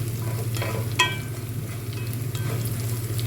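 Moringa (drumstick) leaves fry in a pan with a constant, close sizzle, broken by a few soft stirring scrapes and taps over a short, steady stretch, with no voices.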